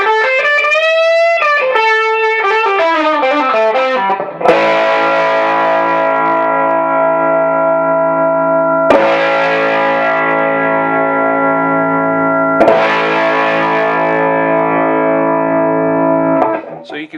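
Electric guitar played through an ODS-style tube amp with the preamp boost engaged, ringing out a run of single notes and then three loud sustained strummed chords that each hang and decay, with no voice over it.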